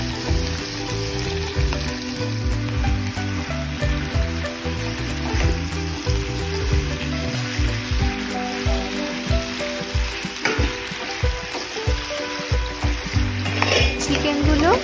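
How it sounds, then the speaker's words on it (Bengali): Chicken pieces frying in a pan for chilli chicken, a loud, continuous sizzle and crackle with repeated stirring clatter throughout, no voices. "খুব ভালো করে এবার আমি চিকেনগুলো ফ্রাই করে নেব।"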